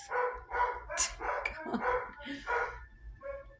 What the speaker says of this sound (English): It sounds like I have an entire kennel. It's just 2 dogs.